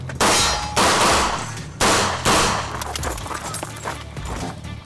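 Revolver shots at a Smith & Wesson revolver nationals match strike steel targets: four loud, close reports, each followed by a bright metallic ring, then smaller clanks and lingering ringing.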